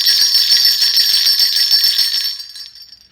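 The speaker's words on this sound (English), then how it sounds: "Well, it is some sleigh bells." Sleigh bells shaken in a steady jingling rhythm for about two seconds, close and fairly loud, then fading away with no voices over them.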